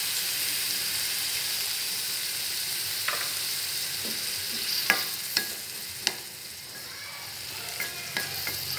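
Sliced bitter melon sizzles and fries steadily in a pan after soy sauce is added, with a constant hiss and a few sharp clicks of stirring utensils against the pan.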